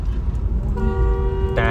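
Car horn honking in a sustained blast that starts partway through, with a second, brighter tone joining near the end over road noise.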